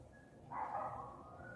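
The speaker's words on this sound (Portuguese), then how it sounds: "vai notar que tem um barulho de um cachorro." A dog barks once, faint and distant in the background, over a quiet indoor hum.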